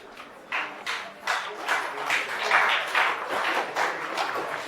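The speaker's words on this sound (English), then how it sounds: "Don't applaud, throw money." Students applaud at the end of a university lecture on op amps, a sustained wash of many hands clapping in a lecture hall with swelling pulses, fairly loud and continuous with no talk over it.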